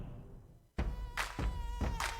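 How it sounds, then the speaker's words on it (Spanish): Mosquito buzzing in a public health message about dengue: a loud close whine starts abruptly and holds steady, swelling and fading in repeated waves as the insect moves, with no speech. "No te la pases intentando matar a los mosquitos."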